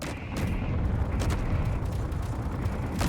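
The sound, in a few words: turrets firing in Underground Alone video game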